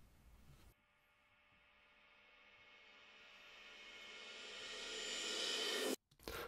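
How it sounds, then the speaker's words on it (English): A reversed crash cymbal sample from a Logic Pro X drum kit, opening with a brief tail before a long washy swell that grows steadily louder for about five seconds, then cuts off sharply, followed by a short burst. "A classic technique of reversing sound is taking a crash sample and reversing it as it sounds like it's creating a build-up."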